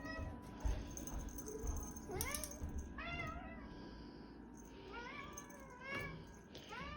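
A house cat meows repeatedly indoors, several drawn-out rising and falling cries spaced across a few seconds, fairly close, with faint background noise and a person talking softly.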